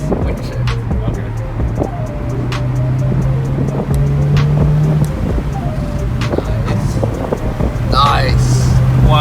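A Honda Civic Type R with a manual gearbox pulls away, its engine droning and climbing in pitch before easing off at a gear change, while people talk inside the cabin over the steady road and wind noise.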